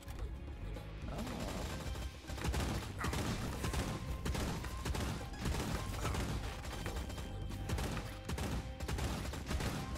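Rapid machine gun fire in a co-op monster-shooting video game bursts out in dense, sustained volleys, mixed with crashes and game effects. The fire stays loud and continuous throughout.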